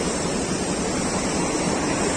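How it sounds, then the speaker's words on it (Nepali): A swollen, dangerous river rushes below a bridge, giving a dense, steady roar that fills the whole clip, loud and close with no talking. "यता हेऱ्यो खोला, यता हेऱ्यो खोला, डेन्जर खोलै खोला।"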